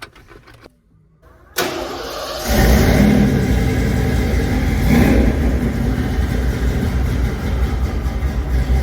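A truck engine cranks and catches after a timing chain repair in a shop, then settles into a loud, steady running rumble close by, with a brief rise in revs soon after it fires.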